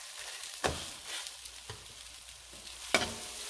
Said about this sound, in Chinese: 我们将它煎两分钟先